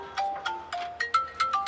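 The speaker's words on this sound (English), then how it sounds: "Let's go to get the phone." A phone ringtone plays a repeating melodic electronic tune of short tonal bursts, fairly loud and close, on a sailing boat in the Whitsundays. No one speaks over it.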